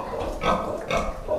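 Large newborn piglets from first-time sows squeal and grunt in short overlapping bursts, fairly close, with two louder squeals standing out over a busy pen murmur.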